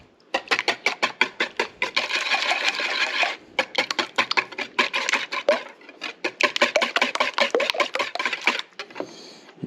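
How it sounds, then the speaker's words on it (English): Clafoutis batter whisked in a bowl, a chanterelle mushroom clafoutis: fast, rhythmic clattering strokes of the whisk against the bowl, close and loud, with one short pause partway through. "And I'm going to start whisking this together."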